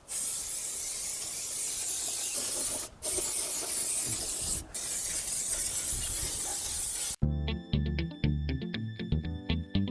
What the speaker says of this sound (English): we're going to spray a load of degreaser over the engine